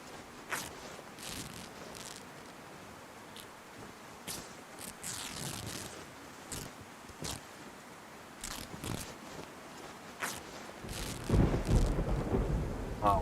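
A thunderstorm in the video game DayZ, steady rain with repeated sharp cracks and rumbles of thunder throughout, swelling into a loud, heavy downpour near the end.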